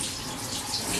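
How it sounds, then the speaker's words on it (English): Cold tap water runs steadily over cooked pasta shells in a kitchen sink, making a continuous close hiss and splash with no talking. "Usually I'll run some cold water right on top of them so they won't"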